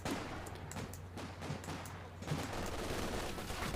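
Light machine gun fire from Company of Heroes 2 battle, steady overlapping bursts of automatic gunfire with scattered louder shots, continuous and moderately loud throughout.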